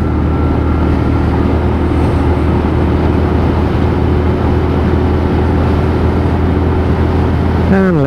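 Lexmoto ISCA motorcycle accelerating hard through the gears, a loud steady engine drone close to the rider with constant wind rush throughout, rising in pitch at the very end.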